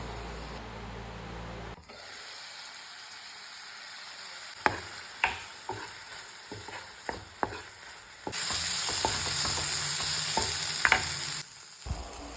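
Squid pieces cooking in a pan, starting quiet, then a string of sharp spoon scrapes and knocks, and later a louder steady sizzle under further stirring.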